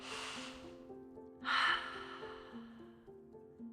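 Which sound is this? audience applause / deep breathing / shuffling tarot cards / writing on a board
deep breathing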